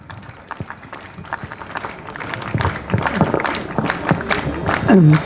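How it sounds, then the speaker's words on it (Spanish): Audience at a ceremony honouring Haya de la Torre applauds a member of the 1979 Constituent Assembly, clapping swelling from sparse to dense and continuing steadily, with a voice briefly heard at the end. "para que pido fuertes aplausos"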